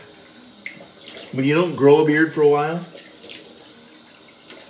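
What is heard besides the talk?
cold water running from a tap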